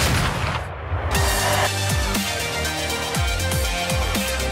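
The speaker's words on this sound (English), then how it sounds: "Enjoy the fireworks." Fireworks burst at a public celebration, a series of sharp booms and crackles landing roughly every half second, loud and close, with a dense rumbling wash between the blasts.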